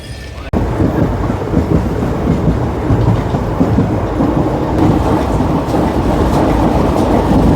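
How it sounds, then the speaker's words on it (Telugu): Tungabhadra Express rolls along after pulling out of Gadwal junction, a loud steady rumble of wheels and carriage noise heard from inside the train, with a brief thump near the start and no talk. "గద్వాల్ నుంచి మన ట్రైన్ అయితే బయలుదేరిపోయిందండి"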